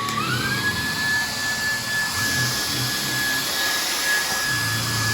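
A steady high-pitched whine of a Dreame R10 Pro cordless stick vacuum running on its second power setting, with a rising tone settling into a constant loud hum.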